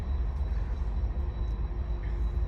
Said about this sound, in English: That's the train in the background